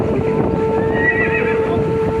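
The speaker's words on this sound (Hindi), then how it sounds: "कुश ने लव से कहा, भैया भैया ये देखिए, कितना मनमोहक और सुंदर घोड़ा है।" A horse whinnies and its hooves clip-clop steadily, close and fairly loud, over a continuous dense backdrop of ambient noise and a faint steady tone.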